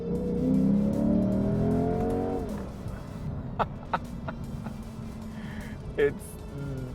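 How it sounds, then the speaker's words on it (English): A Lexus IS500 sports car engine revs loudly in manual mode and climbs in pitch, then drops away as gears change, leaving a lower idle with a few sharp clicks and thumps. "you get to drive it like this in manual mode and put the foot down"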